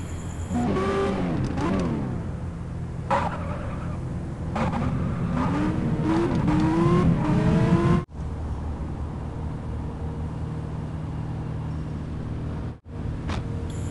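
Car engine in the Car Parking Multiplayer game, revving and accelerating loudly with rising and falling pitch sweeps, then settling into a steady drone with two brief cutouts.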